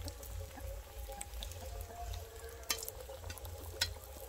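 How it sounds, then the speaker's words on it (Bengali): Egg chops are deep fried in hot oil with a low, steady bubbling sizzle and a couple of sharper crackles as pieces are added, heard quietly at close range. "তেল দিয়ে দিয়েছি, তেলটাও গরম হয়ে গেছে। এবার আমি একটা একটা দিয়ে ভেজে তুলে নেব।"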